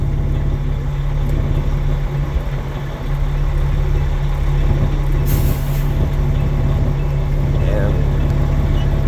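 Air brakes on a semi tractor-trailer during a pre-trip inspection, a loud sustained truck rumble with a sharp burst of air release partway through, close by.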